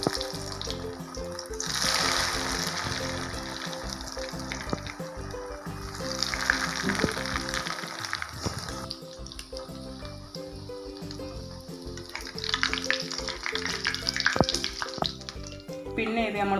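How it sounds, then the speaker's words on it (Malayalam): Semolina and egg snacks fry in hot oil in a pan, giving a continuous crackling sizzle with bursts of louder spitting bubbles across the stretch, close and fairly loud. "അപ്പോൾ ഇത് പൊരിച്ചെടുക്കാം നമുക്ക്."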